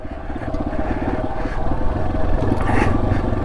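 A Yamaha XT250 motorcycle ridden hard off road, its single-cylinder engine a loud, steady, close drone with a rapid pulsing rumble that holds throughout.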